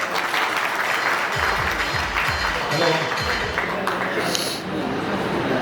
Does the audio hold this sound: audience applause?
yes